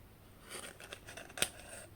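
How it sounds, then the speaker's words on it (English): Scissors snip slowly through a traced old photo negative, a series of soft close crunching cuts ending with one sharper, louder snip, with no voices. "now I'm using my scissors"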